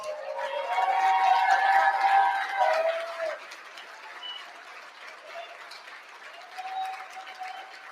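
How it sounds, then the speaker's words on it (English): A crowd applauds at an election-night watch party for Senate candidate Bernie Moreno in Ohio, a dense roar of clapping mixed with cheering under a speaker's voice that fades after about three seconds into scattered claps and chatter. "Let's give them a round of applause."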